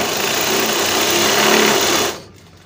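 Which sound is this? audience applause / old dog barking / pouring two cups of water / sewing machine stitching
sewing machine stitching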